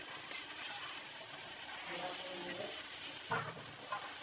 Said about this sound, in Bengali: এই তো মাছের মাথাটা দিয়ে দিয়েছি। এবার ভালো করে কষিয়ে নেব।